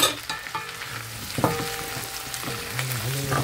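Onion, garlic and beef tendons frying together for kare-kare, a constant close sizzle under repeated scraping and knocking of a utensil stirring the pan, with brief ringing metallic tones between strokes.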